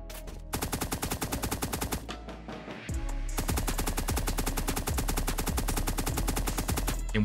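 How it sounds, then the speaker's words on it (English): Rapid automatic gunfire in the survival shooter Apocalypse Rising 2, loud dense bursts of machine-gun fire running nearly continuously with a brief pause near the middle, with no talking over it. "The guy over there shooting at me with something."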